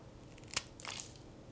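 Flaky pastry sprinkled with cinnamon, sugar and nutmeg gives a sharp crisp crunch, then a second softer, drawn-out crackle, both close and fairly quiet.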